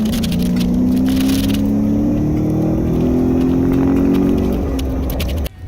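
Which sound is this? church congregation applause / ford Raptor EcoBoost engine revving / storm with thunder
ford Raptor EcoBoost engine revving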